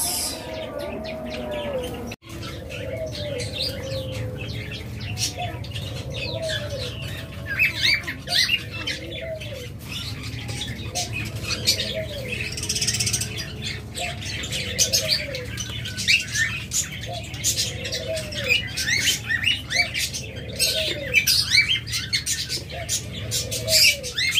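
Cage birds including budgerigars, diamond doves, lovebirds and cockatiels call together in a dense, continuous chorus of squawks and chirps, with repeated dove-like coos and occasional wing flutters, steady and close throughout.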